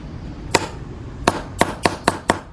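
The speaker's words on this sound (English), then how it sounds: "And I'm gonna take my hammer." Six sharp metallic hammer strikes knocking a bolt out of its socket during Ford Fiesta engine work, one alone and then five in a quick steady series, close and loud over a low background hum.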